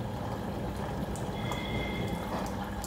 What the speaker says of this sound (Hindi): और देख सकते हैं दोस्तों ड्रम में भी पानी आना शुरू हो गया है।